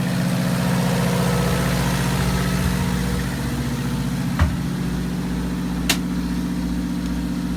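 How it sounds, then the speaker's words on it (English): The starboard generator on a Burger motor yacht runs steadily, a loud, even low-pitched engine hum with a constant drone. Two brief clicks or knocks sound partway through, and there is no talk. "so we're going to be on the starboard generator"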